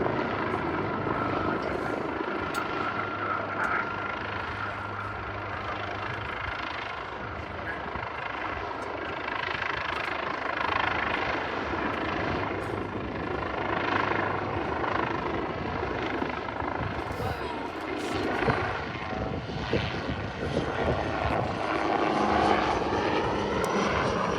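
Helicopter hovering low along the display line at Farnborough Airshow 2024, a steady loud rotor and turbine roar held throughout with slight swells, no talk over it.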